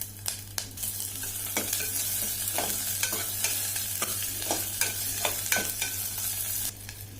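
Green and red chillies hit hot oil in a pan for a dal tempering, giving a loud, close, steady sizzle broken by sharp scraping clicks of stirring, with no voices.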